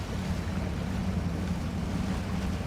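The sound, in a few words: truck driving into water in Spintires: MudRunner, video game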